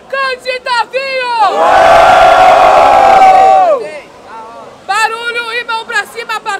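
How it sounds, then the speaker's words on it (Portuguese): A loud crowd at a freestyle rap battle roars and shouts together for a couple of seconds, framed by someone speaking energetically before and after. "Barulho e mão pra cima pra Tubarão e Olhinho!"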